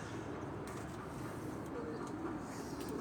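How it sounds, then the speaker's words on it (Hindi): A Sialkoti black-faced cross-breed pigeon on a rooftop loft coos faintly in soft low repeated notes, nearly buried under steady background hiss and ambient noise. "ये वो कबूतर है सियालकोटी काले मुंह वाले और बटेरों का क्रॉस कबूतर।"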